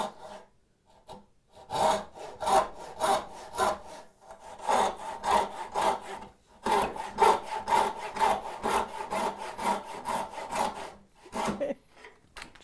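A hand saw cuts through wood to form a tenon for a mortise and tenon window joint, its steady back-and-forth strokes rasping loud and close in a regular rhythm, with short pauses between bursts.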